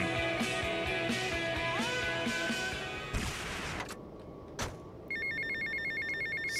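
A payphone rings in the GTA Vice City video game with a loud, repeating electronic bell tone over game sounds. The ringing breaks off around the middle, then a brighter ring pattern starts up.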